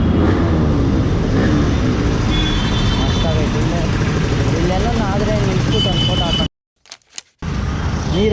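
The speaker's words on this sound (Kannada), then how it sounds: "ಸೂಪರ್ ಆಗೈತೆ ಸೌಂಡ್ ಕೇಳಿಸ್ಕೊಳ್ಳಿ ಕ್ಯಾಟ್ ಸೈಲೆನ್ಸರ್ ಬೈಕ್" A Yamaha RX135 five-speed motorcycle with a cat silencer runs on a long highway ride, its raspy engine drone continuous under heavy wind noise. A voice talks over it, and the sound briefly cuts out near the end.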